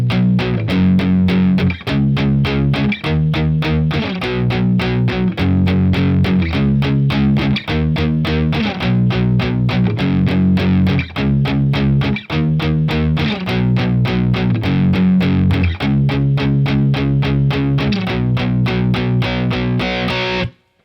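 A distorted electric guitar plays a song verse with palm-muted chugging power chords in a steady driving rhythm, loud and alone.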